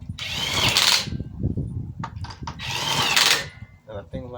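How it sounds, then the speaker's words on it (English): Ryobi P261 1/2 inch impact wrench on speed 1 snugging bolts, two loud whirring bursts with a short rattling pause between, close up, followed by a few brief clicks. "you're using speed 1 to fasten these bolts just snugly"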